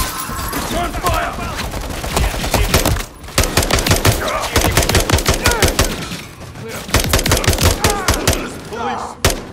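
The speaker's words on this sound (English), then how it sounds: "Contact! Return fire!" Rapid bursts of automatic gunfire in the first-person shooter Call of Duty: Modern Warfare 3 (2023), sharp repeated shots in clusters with brief gaps, loud and close, with in-game voices calling out between volleys.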